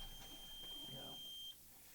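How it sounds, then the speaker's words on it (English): An alarm going off indoors, a single steady high-pitched electronic tone sounding for about a second and a half before cutting out, faint under background noise. "I also like alarms that go off."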